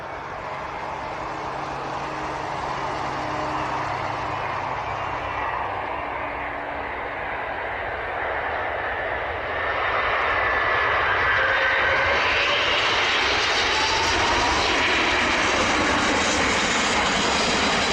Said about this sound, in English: This Emirates A380 pilot takes an exceptionally late decision to initiate a missed approach.